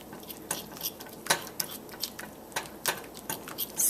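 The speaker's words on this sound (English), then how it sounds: "Stirring again to blend." Spoon stirring milk into a scalloped potato sauce in a pot, giving a run of soft, quiet scrapes and clinks against the pot at an irregular pace, close by with no talk.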